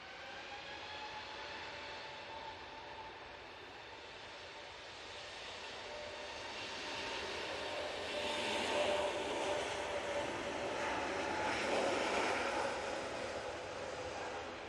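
A Lufthansa airliner is coming in to land at Manchester Airport. A distant jet whine swells slowly and grows louder toward the middle before easing slightly, with no talk.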